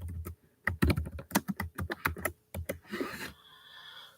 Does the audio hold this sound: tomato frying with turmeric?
no